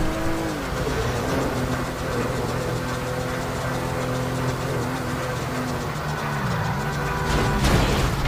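In-game car engine from Grand Theft Auto V drones steadily at a moderate, even pitch while driving, loud and continuous for several seconds, with a slight surge near the end.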